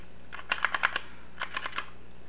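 A Zevro Sugar N More Portion Pro dispenser gives two quick bursts of crisp plastic clicks, four or five in each, close and clear against a quiet room.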